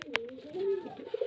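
Racing pigeons kept for sale coo softly and briefly, with a short flutter or tap near the start and a few faint low calls close by, no talk.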